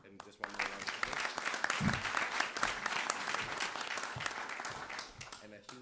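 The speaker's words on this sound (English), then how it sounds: "just one more round of applause" A conference audience gives a closing round of applause after a presentation, with brisk, dense clapping that swells quickly and holds steadily while a few voices sound over it near the end.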